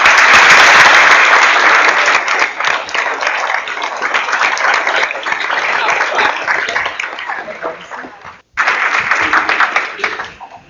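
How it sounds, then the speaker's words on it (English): Loud, sustained applause from a graduation audience for new travel academy graduates, dense clapping holding steady for about eight seconds, cutting out briefly, then resuming just as strongly. "I'd like now to give a warm round of applause to the newest graduates of CCS Travel Academy."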